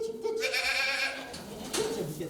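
Goats calling in a barn before being let out, including a black goat with white patches, giving several loud, wavering bleats that overlap, close by, with a short pause before another bleat near the end.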